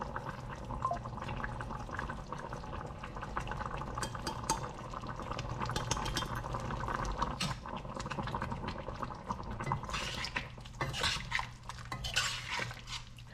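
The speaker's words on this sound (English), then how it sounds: "In this, add water and the freshly prepared masala." Water is poured into an okra and shrimp curry masala cooking in a pot, a soft steady liquid rush with light clinks of utensils and faint bubbling, close and quiet, with no talking.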